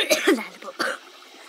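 A person coughs in a village setting during a pork barbecue, giving a few short, close throat bursts in quick succession before trailing into quiet.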